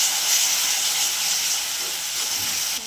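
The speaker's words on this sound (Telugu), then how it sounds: "పచ్చివాసన పోయేదాకా మసాలాని ఫ్రై చేసుకుని" Homemade masala with curry leaves fries in a pan, producing a loud, steady, close hiss that runs unbroken for a few seconds before cutting off abruptly.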